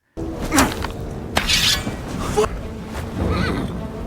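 A frightened horse whinnies loudly several times, mixed with sharp clattering and crashing noises nearby.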